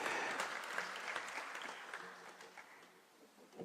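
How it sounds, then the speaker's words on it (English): An audience at a cultural heritage conference at the UN offices in Gigiri, Kenya, claps in sustained applause that slowly fades over a few seconds. "let's clap as they're coming, as a sign that this is something that we all agree with."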